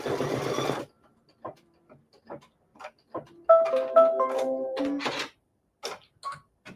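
An embroidery machine stitching a quilt wall hanging, with rapid mechanical clicking runs and a tonal whirring burst that ends in a sudden clunk, interspersed with short ticking pauses, close and clear with no talking.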